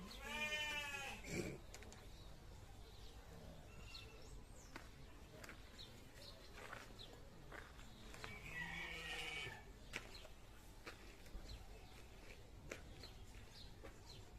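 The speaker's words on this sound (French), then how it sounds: "Des moutons valais qui viennent de Suisse." Valais sheep bleat nearby, a couple of wavering cries among soft background noise and faint movement.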